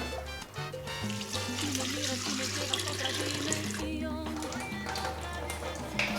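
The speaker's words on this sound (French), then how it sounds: "on a mis le jus de pastèque dans la pastèque" Watermelon juice pours from a container into a hollowed-out watermelon for a cocktail, giving a continuous close splashing, gurgling flow with a low hum beneath.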